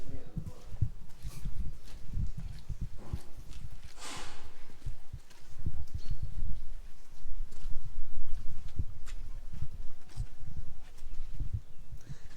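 Horses' hooves thud and clop in an uneven, continuous rhythm on the ground nearby while people chat in the background.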